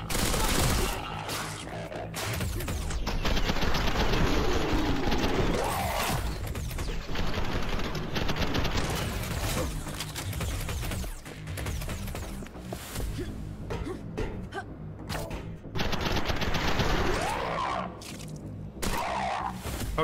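Rapid SMG gunfire in the video game SPRAWL, with loud sustained bursts and stuttering volleys that come and go across the stretch, mixed with impacts and game effects.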